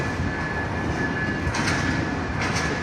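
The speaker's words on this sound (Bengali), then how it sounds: "একটু ক্যালকুলেশন ভুল হয়েছে, 3 নম্বরের প্ল্যাটফর্মে এসে দাঁড়াইছে ট্রেনটি" A train at Kamalapur railway station, standing at platform 3: a steady, loud rail rumble with faint metallic clatter and a couple of brief hissing swells, continuous throughout without voices.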